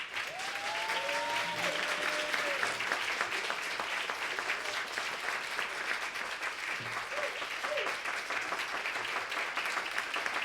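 A conference audience gives sustained, steady applause to welcome keynote speaker Elizabeth Alexander, filling the hall evenly for several seconds, with a few faint voices and cheers rising briefly above the clapping.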